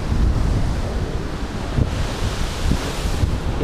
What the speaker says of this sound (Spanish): Y ahí el mar, que está un poquitín revuelto